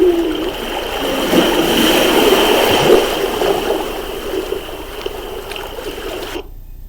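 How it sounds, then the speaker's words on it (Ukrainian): Rough sea on a windy day, a continuous washing rush of waves with splashing surges that stays loud throughout before cutting off. "Це хвилі. Так, море в нас неспокійне"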